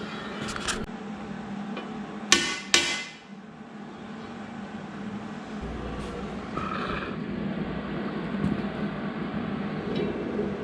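A few sharp metallic hammer taps ring out early on as a 6-inch wheel on a VW rail buggy is bumped true on its axle, followed by a low steady background hum.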